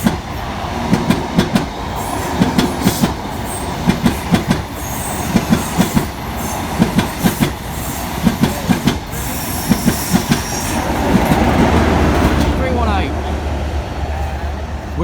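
An HST high speed train with a class 43 power car passes on a diverted East Coast Main Line near Lincoln, wheels clattering in rhythmic clickety-clack over rail joints, loud and close, with a voice talking briefly.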